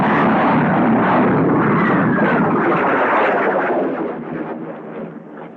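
Roar of a supersonic jet reaching the ground after a pullout from flight beyond the sound barrier: a loud, broad rushing blast that holds strong, then fades and thins toward the end, with no voices.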